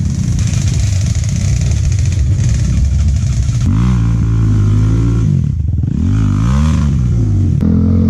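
An enduro motorcycle on a muddy downhill trail in Davao revs hard and close, its engine rising and falling in repeated throttle bursts with clattering, no voices.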